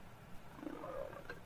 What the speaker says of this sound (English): I got a cat!